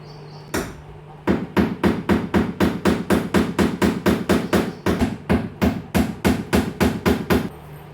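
Nails being hammered into a sofa to fasten new fabric at home, heard as a steady run of about twenty sharp, close, loud strikes in quick, even rhythm, with no talk.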